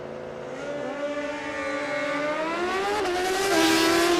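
Drag racing motorcycles, a Suzuki GSX and a Hayabusa, launching down the strip at a Queensland raceway, a loud rising engine wail with stacked climbing harmonics that swells steadily over about four seconds.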